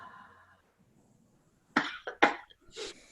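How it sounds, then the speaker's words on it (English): A few sharp coughs come close together during a guided group meditation, loud and near after a quiet stretch of faint breathing. "And then cough."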